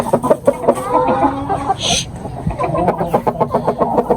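A Kili Taj rooster in a rooftop poultry pen in Faisalabad makes repeated clucking calls in short, uneven bursts, close by, with other birds and a voice mixed in.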